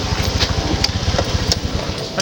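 A motorcycle engine runs at a steady idle nearby, a low, even putter with a fast regular pulse and a few small revs, loud and close with no talking over it.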